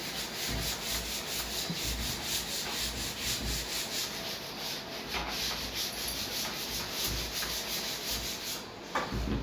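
A chalkboard is wiped clean with steady, close scrubbing strokes, a continuous rhythmic rubbing with no talk over it.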